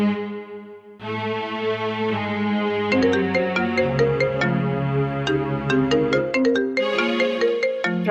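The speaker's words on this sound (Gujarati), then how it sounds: "છોકરીને અત્યારે હું ફોન કરી દઉં." A phone rings during an outgoing call, a melodic electronic ringtone with bright repeating chimes and sustained tones playing clearly and alone for several seconds.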